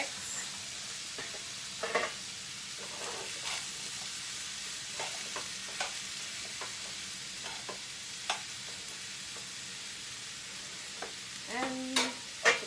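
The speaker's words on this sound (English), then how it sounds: "I'm going to give my cauliflower a mix." Cauliflower rice gets a mix in a pan, a handful of scattered soft scrapes and stirring clicks over a faint sizzle, with a louder clatter near the end.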